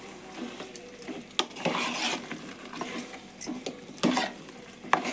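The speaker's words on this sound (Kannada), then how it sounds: "ಈ ಥರ ಮಿಕ್ಸ್ ಮಾಡ್ಬೇಕು" Chicken gravy sizzles and fries in a pan while a utensil stirs it, making repeated scraping strokes and soft clinks over a quiet frying hiss up close.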